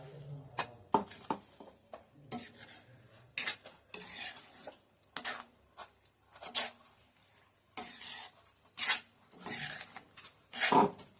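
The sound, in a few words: stirring vegetable curry in a pot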